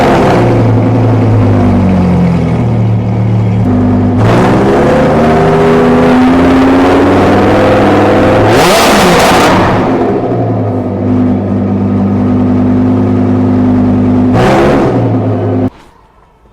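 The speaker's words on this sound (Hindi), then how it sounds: "in this car you will get quad exhaust system which is super loud" A Lamborghini fitted with a modified Rift titanium quad exhaust revs hard and very loud up close, engine pitch climbing and falling through several sharp blips with a crackling burst in the middle before cutting off.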